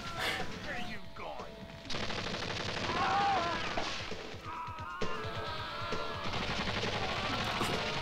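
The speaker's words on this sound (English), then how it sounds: "Wait, are they shooting at each other?" Gunfire from the 1988 action film Robowar: bursts of rapid shots and sharp cracks with echoing, chaotic fusillade noise, loud and dense across the scene, with scattered voices.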